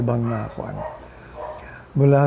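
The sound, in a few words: dogs fighting and barking across the street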